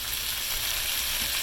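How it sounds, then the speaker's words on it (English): Round steak sears in a pot beside vegetables for Swiss steak, a steady close hiss and crackle of frying throughout. "I'm kind of scooting the veggies over so that I get the meat on the actual bottom of the pot"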